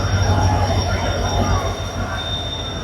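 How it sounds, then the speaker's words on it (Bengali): The 12387 Tamralipta Express rolls into platform 21 at Howrah station, a loud, close, steady rumble of wheels with a thin high squeal running throughout, over the hubbub of a crowded platform. "আর এখন আমাদের ট্রেন ঢুকছে কিন্তু এই 21 নম্বর প্ল্যাটফর্মে।"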